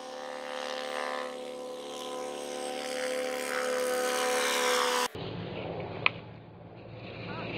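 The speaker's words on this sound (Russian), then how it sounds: "Ждем третьего вертолета." Helicopter flying nearby, a steady whirring rotor drone that cuts off abruptly partway through, leaving quieter outdoor ambience and a single sharp click.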